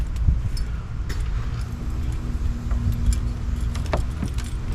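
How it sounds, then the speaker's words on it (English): A keychain carrying a small Squatch multi-tool with scissors jangles in short metallic rattles, close and fairly loud, over a low steady rumble. "these scissors, they're on my keychain, my little Squatch multi-tool thing"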